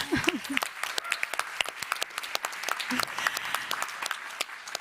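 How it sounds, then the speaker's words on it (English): Audience at an award ceremony claps for finalists, a moderate run of applause with distinct close claps, a few voices briefly audible over it. "We can applaud them again, can't we?"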